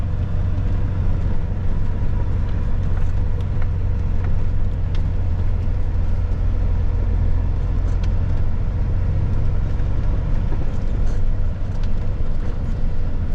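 Heavy truck engine stuck on gravel drones in a deep, steady rumble, straining continuously up close.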